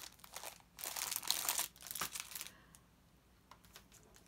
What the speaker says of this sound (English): I picked up the packet of 6x6 clear plastic card bags